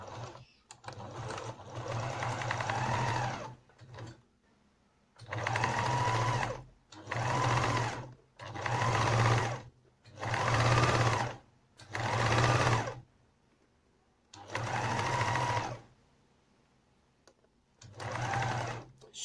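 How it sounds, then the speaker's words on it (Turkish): A sewing machine stitches two cut fabric circles together for a homemade pincushion, running in six or seven loud, steady bursts of several seconds each, separated by short pauses. "Kestiğimiz iki tane yuvarlağımızı birbirine dikiyoruz."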